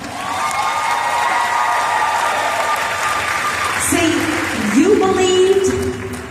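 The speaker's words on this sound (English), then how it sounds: "So give yourselves a round of applause." An event audience claps in broad, steady applause while a voice speaks and calls out over the crowd.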